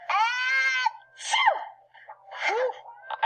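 A person sneezes once with a sharp explosive burst, followed by gasping and shaky vocal sounds, all close and loud in a quiet room.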